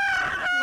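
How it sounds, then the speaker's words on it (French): Cartoon rooster crowing from the elves' farm, a single bright, harmonic cock-a-doodle-doo call heard up close and loud, filling the short moment on its own with no talk. "c'est le coq qui vient de la ferme des elfes"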